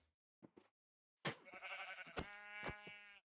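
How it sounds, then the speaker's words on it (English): A single video game sheep gives one long, wavering bleat after two short soft sounds, close and clear with no talk over it. "Come here, sheep."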